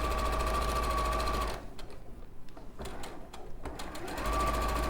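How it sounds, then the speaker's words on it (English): An Elna sewing machine stitching fabric in a quilting studio, a steady fast mechanical whir that stops for a few seconds of quiet handling noise and then starts up again, close and clear. "And I'm just going to sew down these."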